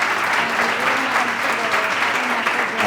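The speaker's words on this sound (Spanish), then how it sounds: "vamos a dar un gran aplauso a Virginia" Steady applause from the audience after a talk by speaker Virginia Martínez, a dense continuous clapping wash with a few voices mixed in throughout.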